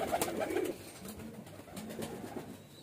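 Soft highflyer pigeon coos, a few low throaty calls in a quiet setting, fairly close.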